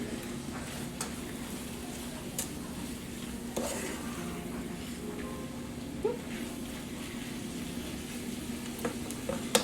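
Chunks of food sizzle and fry in a pan, a quiet, steady hiss broken by occasional light clinks and scrapes of stirring against the cookware.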